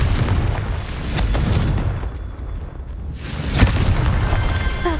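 Confringo fire spell blasts in Hogwarts Legacy, a series of loud booming explosions with a short quiet gap midway before another sharp burst, no voices.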